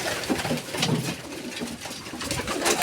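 Pigeons cooing in a loft, soft repeated low coos with light bird calls over steady background noise, no voices.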